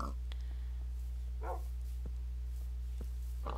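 A tamed wolf in the Minecraft video game gives a few short, sharp barks spaced apart, fairly quiet over a constant low hum.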